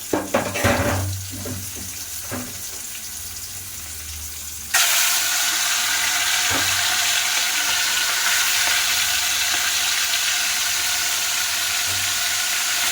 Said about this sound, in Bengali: আর এদিকে আমার মনে হচ্ছে তেলটা গরম হয়ে গেছে, এটাতে এবার আমি দিয়ে দেবো চিংড়ি মাছটা